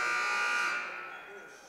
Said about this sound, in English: At the buzzer, Danielle Belcher throws it up.